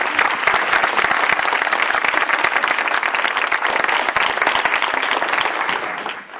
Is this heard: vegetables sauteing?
no